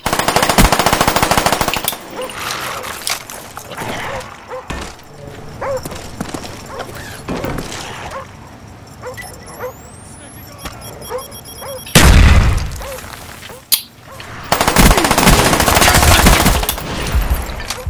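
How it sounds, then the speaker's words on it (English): Uzi gunfire in Call of Duty Black Ops zombies mode, loud rapid automatic bursts in several separate volleys with pauses between, mixed with other game effects and no talk. "Set number four with the Uzi."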